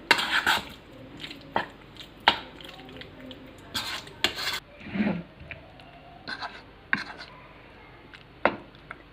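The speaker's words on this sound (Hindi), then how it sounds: "ये सारी चीज़ें हमने अच्छी तरह से मिक्स कर लेनी है।" Chicken Manchurian ingredients are mixed in a bowl, with scattered clinks and scrapes of a utensil against dishware in irregular bursts, close by and fairly quiet.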